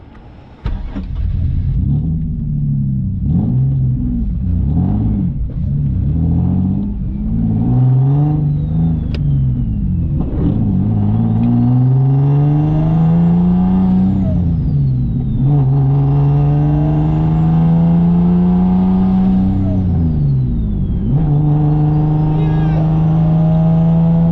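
A single-turbo Nissan 370Z accelerates hard through the gears, its engine note climbing and dropping at each shift, loud and close from inside the car, with people talking over it.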